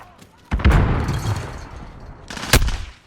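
Gunfire from a first-person shooter video game sounds as a loud, close burst of booming shots followed by a sustained rumble and another sharp crack near the end, with faint game voices underneath.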